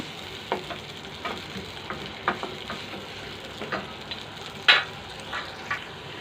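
Onion frying in hot oil for Egyptian koshari, a steady close sizzle broken by soft stirring scrapes every second or so, with one sharper spatter near the end, and no voices.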